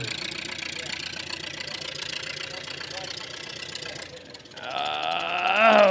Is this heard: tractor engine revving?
yes